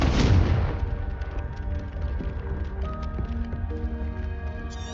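A fiery Confringo spell bursts in Hogwarts Legacy with a sharp, loud boom at the start, then a ringing, crackling tail under steady game ambience and soft tonal music.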